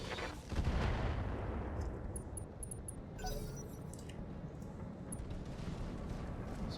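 Mech weapons fire in a video game: a heavy, booming blast that rumbles and decays, then a second thump, with faint metallic clicks and a low roar lingering beneath.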